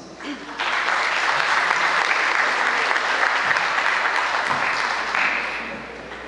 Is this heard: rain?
no